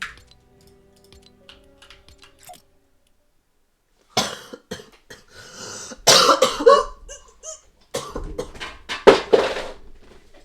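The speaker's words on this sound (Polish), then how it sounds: "Dobra, ja mam taki kaszel." A few sharp coughs in bursts after a quiet stretch, close and fairly loud, with some clinking and small handling noises.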